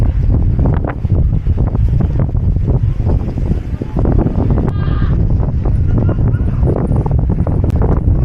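Strong wind buffets the microphone at the Owakudani volcanic valley in Hakone, Japan, a loud steady roar with gusty rumbling that lasts throughout.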